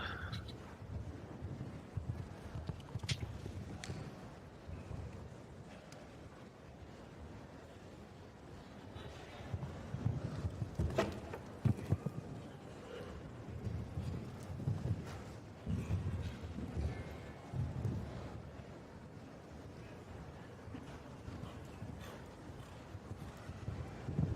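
Hooves of a stallion clip-clop steadily across a show jumping arena at a Christmas competition, fairly faint and distant under wind noise and low crowd ambience.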